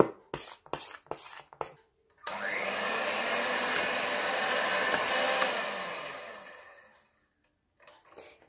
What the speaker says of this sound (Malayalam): ഇത്രയും ബീറ്റ് ചെയ്താൽ മതി.